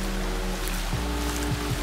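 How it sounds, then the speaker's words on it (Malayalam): Rainwater runoff from distant rain flows through a wadi below the Khor Fakkan road, a steady broadband rush with a low rumble throughout and a few soft splashing pulses near the end, with no talking. "അപ്പോൾ ഇവിടെ ഇപ്പോഴും മഴവെള്ളം വന്നുകൊണ്ടിരിക്കുകയാണ്"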